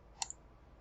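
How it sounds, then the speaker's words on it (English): A single left click of a computer mouse, heard as a faint, quick press-and-release pair of ticks in an otherwise quiet room. "I'll left click again"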